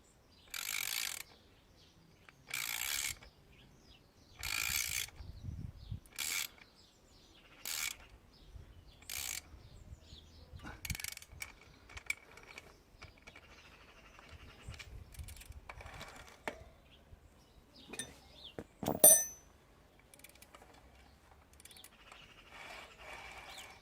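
Bolts being tightened on a mountain bike during a DIY eBike conversion, with quiet ratcheting and mechanical clicks in short bursts followed by scattered small taps and handling noises, close but faint.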